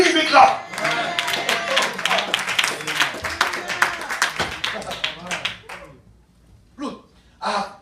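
Clapping from a church congregation, a busy burst of many hands with voices mixed in, rises then thins out and breaks into scattered claps and speech before fading.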